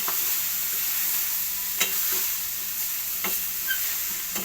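Bamboo shoots (labong) sautéing in a pan give a continuous bright sizzle, broken by a few sharp utensil taps and stirring clicks, with no talking.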